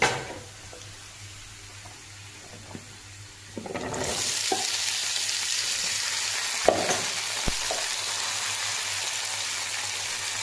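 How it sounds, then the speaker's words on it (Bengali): Vegetables (beans, carrots and spinach) fry in a pan: quiet at first with a few clinks, then a sudden loud, continuous sizzle as they go in, with occasional scraping stirs and taps of the utensil against the pan. "সবজিটা হালকা নাড়াচাড়া করে"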